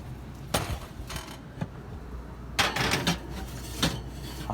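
Kitchen oven door opened for baking bread, heard as a series of sharp metallic clanks and knocks with a creak between them, close by and with no voices.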